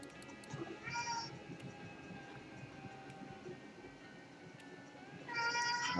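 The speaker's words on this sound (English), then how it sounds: "hush, kitty." An indoor cat meows in two distinct calls, one early and a louder, drawn-out one at the end, close and clear over quiet room tone.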